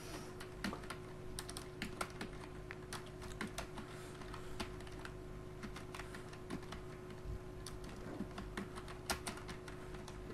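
Computer keyboard keys being typed in an irregular run of sharp clicks, steady throughout at close range over a constant low electrical hum, with no voices, while details are entered into an online Indian visa application form.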